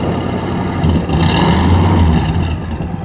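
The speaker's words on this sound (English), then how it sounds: "Just a little rev, Terry." A 1957 Pontiac Star Chief convertible's V8 given a short rev under the hood, the deep rumble swelling briefly and settling back to idle, loud and close with no talk.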